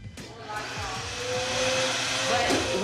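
A household vacuum cleaner runs with a steady, continuous whine and rumble throughout, fairly close and loud, while people talk over it.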